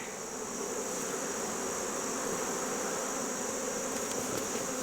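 Honey bees in open hives during a brood and honey-store inspection, a dense steady buzz from many bees filling the air continuously, close and moderately loud with no talking.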